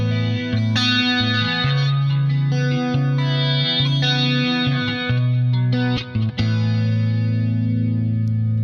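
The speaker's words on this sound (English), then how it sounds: "Nice full-on chorus kind of sound right there." Electric guitar through the Nembrini Audio Jazz Chorus amp sim on iOS with a full chorus effect and a little crunch: loud, shimmering sustained chords and notes played alone, with brief gaps near the end.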